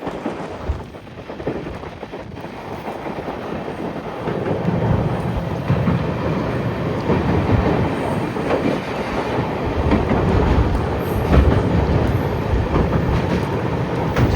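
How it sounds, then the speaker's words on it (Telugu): A train crossing the Pamban Bridge rumbles steadily and slowly, a low continuous roar of wheels and carriages that builds slightly and holds, with no voices. "ట్రైన్ వచ్చేసి చాలా చిన్నగా వెళ్తుంది."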